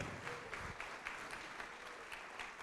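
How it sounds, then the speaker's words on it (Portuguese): A church congregation claps at a moderate distance, a steady rolling applause with some faintly audible individual rhythmic claps. "Vamos aplaudir mais, igreja."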